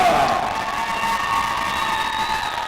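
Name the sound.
crowd noise at girls' basketball game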